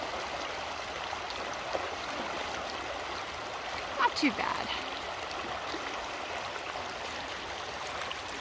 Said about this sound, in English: Evolution Creek.